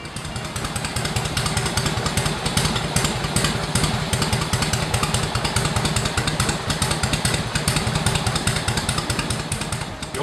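A loud 1940 Harley-Davidson UL Flathead motorcycle engine idles steadily with a rapid, lumpy mechanical pounding and clattering valve noise, close up and continuous.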